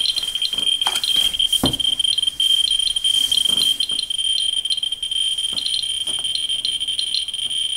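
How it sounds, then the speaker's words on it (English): A sodium iodide gamma radiation detector gives off scattered irregular clicks over a steady high electronic tone, close and alone, with no talking. "Sodium iodide detector."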